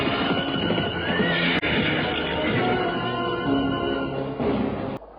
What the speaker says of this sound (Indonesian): mendadak terdengar rombongan orang-orang berkuda mendekat